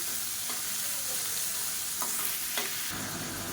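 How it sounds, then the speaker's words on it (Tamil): Finely chopped onions for tomato chutney sauté in a pan, a dense continuous sizzle with a few sharp stirring scrapes and clicks, close and steady. "மீடியம் சைஸாக மூணு பெரிய வெங்காயம் நல்லா பொடியாக கட் பண்ணதை சேர்த்துக்கலாம் இப்போ அது நல்லா வதங்கணும்"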